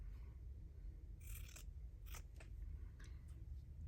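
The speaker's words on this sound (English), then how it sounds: "It's my fabric scissors." Fabric scissors snip through cloth in a quiet room, giving several short, crisp cuts in irregular bursts over a low background hum, with no speech.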